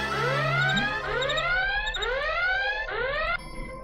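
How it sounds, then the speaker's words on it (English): An electronic alarm goes off, four loud rising sweeps in a steady repeating cycle, each climbing tone sounding close and alone before it cuts out. "My alarm goes off."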